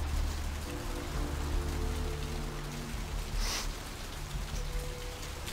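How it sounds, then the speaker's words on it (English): Steady rain pours down on hard surfaces in Santa Monica within a video game, a dense, even wash of falling drops with a faint low hum beneath. "Is it really this rainy in Santa Monica?"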